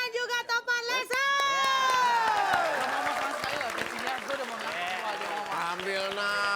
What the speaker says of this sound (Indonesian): kita berikan tepuk tangan untuk Triple T.